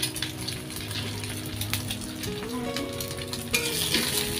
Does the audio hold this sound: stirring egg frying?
yes